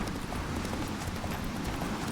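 The horse Roach galloping in The Witcher 3, rapid continuous hoofbeats close and loud over a dense game-world background, lasting just over two seconds.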